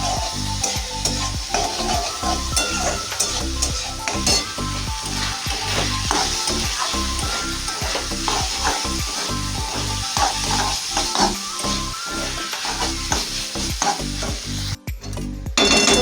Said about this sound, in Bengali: একদিকে হচ্ছে চিকেন কষা, একদিকে হচ্ছে সবজি ভাজা